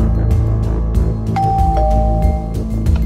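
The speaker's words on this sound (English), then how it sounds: "That's the doorbell." A doorbell chimes with a two-note ding-dong, clear and fairly loud, over a busy cartoon-style background music bed.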